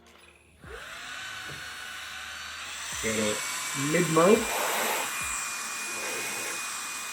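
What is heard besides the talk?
vacuum cleaner sucking dust from a PS5 without attachment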